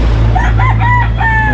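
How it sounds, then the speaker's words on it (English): A rooster crows in a broken, wavering call over a steady low hum of engine-like background noise, fairly close, in El Nido, Palawan, Philippines. "These chickens."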